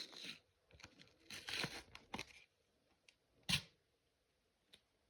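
A small snack packet is torn open and crinkled up close, with several sharp tearing bursts and crackles separated by quiet gaps.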